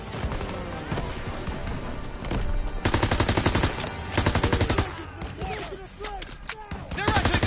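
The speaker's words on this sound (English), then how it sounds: "Come on, they need cover fire! Suppressive fire! Keep firing!" Call of Duty World War II gunfire fills the scene with rapid machine-gun bursts and overlapping rifle shots, loud and sustained in clustered volleys with brief gaps, set against a busy battlefield din.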